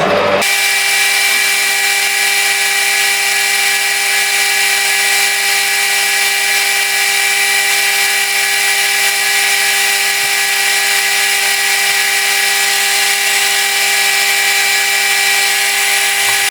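Machined metal drive pin spinning while buffed with sandpaper, a steady, loud high-pitched whine with a constant hiss that holds unchanged throughout after a quick start-up, with no talk.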